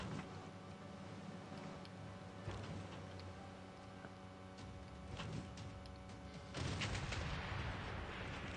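Artillery fire in the strategy game Civilization sounds as a run of muffled booms and crackling blasts over a dense, steady battle din, with a louder burst near the end.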